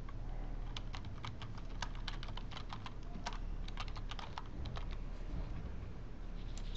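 Quick bursts of keystrokes on a computer keyboard as a search query is entered, light clicky taps in irregular runs, close and fairly quiet, with no voices.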